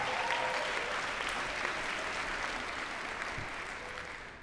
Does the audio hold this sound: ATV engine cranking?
no